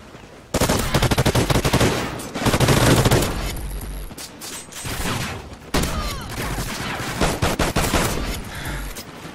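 Gunfire in the video game Call of Duty Ghosts, loud close bursts of rapid automatic fire and shots in dense clusters with short pauses, no talk over it.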